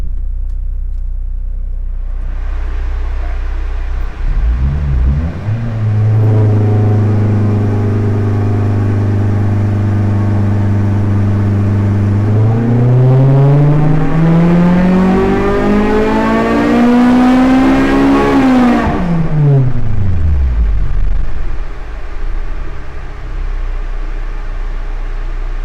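A K24-swapped Honda Civic EP3 engine on a dyno holds a steady loud drone, then sweeps up through the revs to a high scream before dropping sharply back to idle, with no one speaking.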